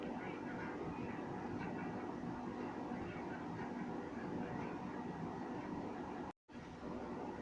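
An electric grinder whirs steadily, blending green chillies with yogurt into a chutney, a constant mid-level buzzing drone that cuts out for an instant near the end before resuming.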